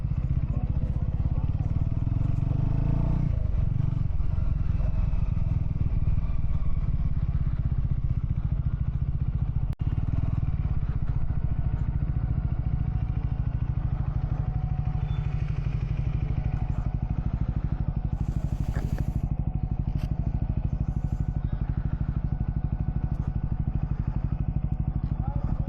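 A Royal Enfield Scrambler 400X motorcycle idles and putters at low speed while being parked near a temple, a steady mid-pitched engine drone with occasional clatter and thumps, and a person talks over it.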